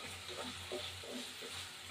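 Chopped onions frying in a little oil for a thin chicken curry, a steady soft sizzle and hiss running the whole time with faint stirring bumps, no voices.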